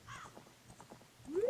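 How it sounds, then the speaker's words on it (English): In Zelda: Ocarina of Time, a summoned horse gallops in with quick clip-clopping hooves, then lets out a rising whinny at the end, brief and fairly quiet. "So I'm gonna summon a horse."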